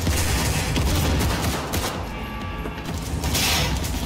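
Dense gunfire bursts in the video game Cyberpunk 2077, rapid overlapping shots forming a loud, sustained fusillade across the whole stretch.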